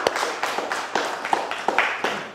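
Audience clapping at a live religious talk in Makassar, a short burst of distinct, fairly close hand claps in a loose uneven rhythm, fading at the end.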